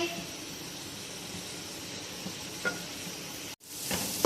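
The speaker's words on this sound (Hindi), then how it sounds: "अब हम इसके अंदर 2 प्याज जिनको हमने पीस दिया था वो ऐड करेंगे और इसे फ्राई कर लेंगे" Ground onion frying in a cup of oil in a kadai, a steady broadband sizzle with occasional stirring scrapes, briefly cut by a short gap near the end before the hiss returns louder.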